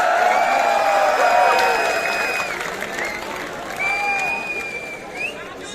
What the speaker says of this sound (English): come on everyone, let's give them a big, big round of applause